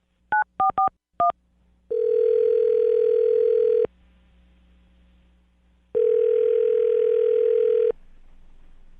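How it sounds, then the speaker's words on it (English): A telephone call being placed: a quick burst of keypad dialing tones, then two long, steady ringing tones separated by a silent pause, clear and close with no voices. "I'm going to dial the phone right now, get her on the phone"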